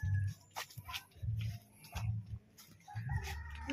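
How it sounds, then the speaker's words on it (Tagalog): Chickens cluck in short, repeated bursts just after being let loose, with a few sharper calls in between. The sound is fairly faint and outdoors, with no talk over it. "Bitaw na yung mga manok ko."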